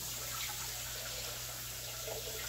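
Tap water runs steadily into a sink while lentils are rinsed, a close, constant splashing rush with a low hum underneath.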